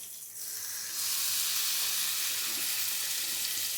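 Pumpkin slices with mustard paste fry in mustard oil, a sizzle that starts moderate and swells into a loud, bright, steady hiss that holds to the end.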